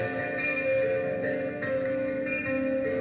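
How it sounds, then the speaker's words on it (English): A pencilina, a two-necked struck-string instrument, rings through distortion in a dense, sustained drone whose harmonics stand out as steady bright overtones, loud and reverberant with no talking. "if I put a distortion on the necks"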